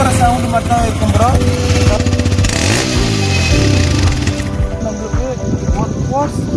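A TVS Raider motorcycle engine revs hard with rising and falling pitch, loud and close, while someone talks over it.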